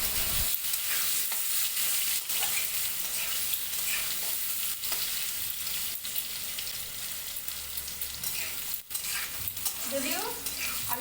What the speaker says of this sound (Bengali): পনির ভাজা তেলের মধ্যে আমি আলুগুলোকে দিয়ে দিলাম।